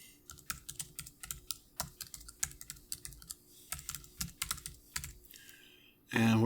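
Rapid keystrokes on a computer keyboard while writing program code, a close, steady clatter of uneven taps in short bursts, ending with a louder thump or rustle.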